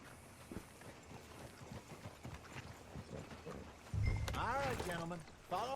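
Horse hooves clip-clop in Red Dead Redemption 2 after the horse is called, a steady gallop under game ambience with speech over it, then a louder burst and whinny-like rising tones near the end.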